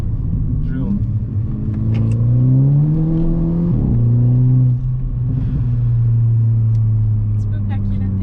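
A Mercedes A250 AMG Sport car accelerating from inside the cabin, a loud engine drone rising in pitch through gear changes as people talk over it.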